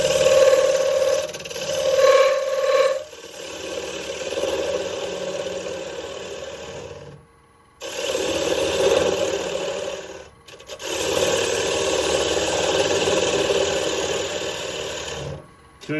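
Gouge cutting a cherry bowl on a wood lathe, a steady rough rasping hog-out cut that runs nearly continuously, broken by two short pauses where the tool lifts off the wood.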